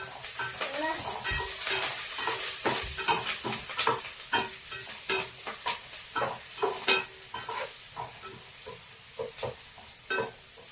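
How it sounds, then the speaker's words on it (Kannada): Mustard seeds sizzling and crackling in hot oil in a home kitchen while chicken chops are being cooked, a steady close fry hiss broken by frequent popping bursts and stirring clatter. "ಸಾಸಿವೆ ಕಾಳು ಹಾಕ್ತಾ ಇದ್ದೀನಿ."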